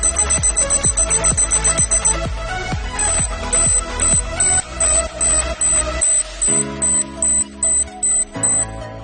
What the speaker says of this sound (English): the beep sound is fast when approaching the leaf line